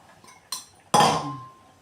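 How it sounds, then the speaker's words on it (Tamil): A metal ladle knocks against the rim of a cooking pot of tamarind kuzhambu, giving two quick clinks, the second louder with a short ringing metallic tail. "புளி கரைசலாம் விட்டுட்டு நல்லா வந்து இது மாதிரி கிளறி விட்டுக்கோங்க"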